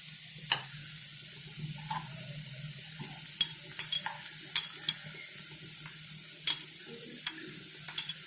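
Ginger, curry leaves and green chilli frying in a pan for bread upma: a quiet sizzle under a low hum, broken by sparse, crisp spoon taps and scrapes that grow more frequent, close by and without speech.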